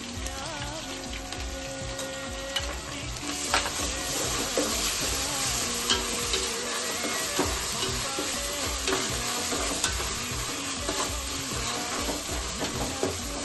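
Ginger garlic paste frying in oil for chicken biryani while a spoon stirs it: a continuous, loud, crackling sizzle with occasional scraping taps of the spoon and no talking.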